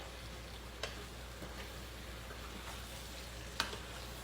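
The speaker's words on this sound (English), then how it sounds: "I just want that to get that fried together, fry the onion and stuff" Onions frying with habanero peppers in a pan give a steady, quiet sizzle, broken by two sharp utensil clicks, one early and one late.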